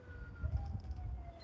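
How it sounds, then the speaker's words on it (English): A faint siren wails in the distance over low traffic rumble, its tone sliding slowly and holding for under two seconds. "hear an ambulance or something?"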